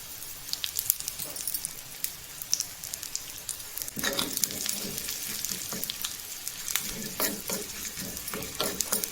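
Cumin seeds, broken dried chillies and hing fry in a small tempering pan, giving a soft, steady sizzle with light crackles and stirring scrapes that grow busier midway, fairly quiet and close.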